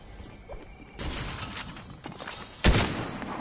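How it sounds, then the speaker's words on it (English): A single sharp gunshot cracks out in Fortnite amid faint game clatter and ambient noise, standing out as one loud, close burst. "Made me shoot my gun."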